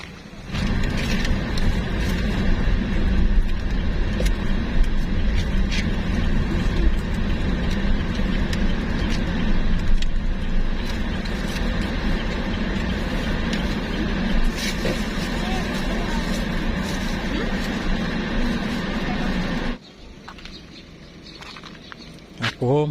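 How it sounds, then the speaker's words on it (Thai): A car drives slowly into a floating market and parks, its engine a steady close rumble under constant crowd chatter and ambient noise, with the motor cutting out near the end. "มันจอดรถ ในตลาดเรียบร้อยครับผม"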